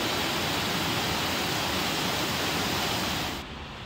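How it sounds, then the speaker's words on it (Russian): A river flowing beneath a bridge in a small town makes a steady, loud, even rush of water that drops off abruptly near the end. "я люблю, когда вода течет"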